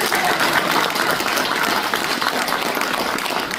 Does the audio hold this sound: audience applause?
yes